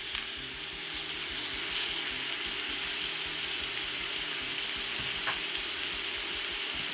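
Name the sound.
beef liver with onions and peppers sizzling in a pan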